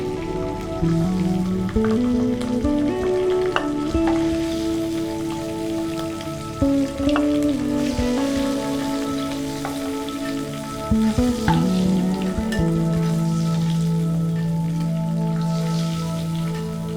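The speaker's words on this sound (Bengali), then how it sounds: "ডিম হালকা ভাজা হয়ে গেছে, এবার তুলে নেব।" Duck eggs fry in oil with a steady, moderate crackling sizzle, heard under tonal background music throughout.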